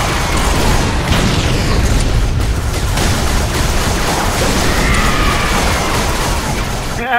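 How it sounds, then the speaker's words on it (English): A grenade goes off in the video game Halo 3, a loud booming blast with rumbling debris and crashing noise that fills several seconds before fading, with faint game sounds trailing after. "Grenade!"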